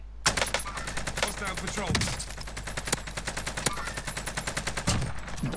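Video game gunfire rattles in rapid, dense automatic bursts with sharp individual cracks throughout, while a game voice speaks briefly.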